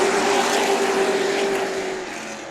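Legend Car race cars in a main event at Tucson Speedway, heard as a loud, sustained engine drone with a steady pitched whine that fades slightly toward the end; no voices.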